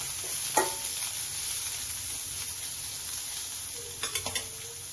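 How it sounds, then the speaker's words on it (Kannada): Onions fry in oil in a pot for lentil sambar, giving a soft, steady sizzle with a few faint scrapes and taps of a spoon. "ಎಣ್ಣೆಯಲ್ಲಿ ಚೆನ್ನಾಗಿ ಫ್ರೈ ಮಾಡಿ"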